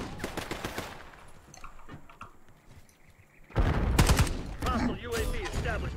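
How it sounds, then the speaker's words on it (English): Gunfire in the video game Call of Duty: Black Ops 6: rapid automatic bursts, a quieter stretch with faint voices, then a loud dense barrage with heavy booms. "Hoffman shooting."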